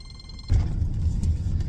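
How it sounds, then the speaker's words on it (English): A telephone rings in a work truck with a steady electronic warbling tone, then a loud rumbling thud cuts across it. "there's a phone ringing"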